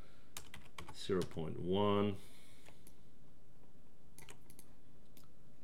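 Typing on a computer keyboard while modelling in Maya 2018, with quick clusters of close key clicks and a brief spoken word in the middle.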